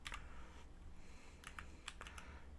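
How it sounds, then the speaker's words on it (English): Quiet, close keystrokes on a computer keyboard while entering commands in a terminal, falling in short irregular clusters of clicks separated by brief pauses. "start typing it out"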